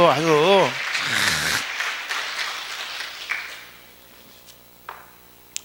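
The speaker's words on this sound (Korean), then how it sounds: "박수 한번 해요." An audience of children bursts into applause during a sermon, a dense wash of clapping following a speaker's voice, then thinning out and fading to a few scattered claps.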